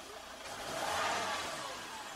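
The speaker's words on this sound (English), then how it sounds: "I'll just rev it" A car engine is revved once at close range, swelling into a rising roar and easing back down over about two seconds, with no other sound.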